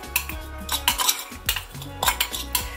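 Fried rice ingredients for a Trinidad-style Chinese box are stirred in a pot, with a spoon repeatedly scraping and knocking against the metal in quick, uneven strokes, close by and with no talk.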